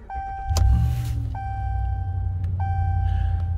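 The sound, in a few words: 2017 Ram 1500 Big Horn truck starting up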